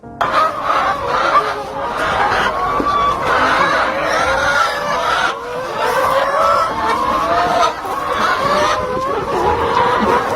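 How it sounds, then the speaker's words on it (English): A flock of around 300 layer chickens clucks and squawks continuously and loudly, many overlapping calls close by with no pauses. "Currently, we are keeping layer chickens, about 300."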